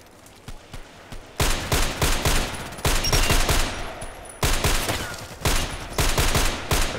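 Rapid gunfire in a shooting game, loud and close, with a few scattered single shots giving way to dense bursts of automatic fire separated by short pauses, with no talking.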